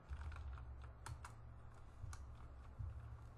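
Quiet computer keyboard typing in bursts of rapid keystrokes with brief pauses, entering commands for a firewall lab setup, heard alone without talk.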